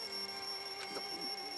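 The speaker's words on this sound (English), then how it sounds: "The wall clock just started ringing." A wall clock ringing inside the video game Danganronpa 2, a steady electronic bell tone held throughout with sharp sustained pitches, moderately loud and alone with no talk.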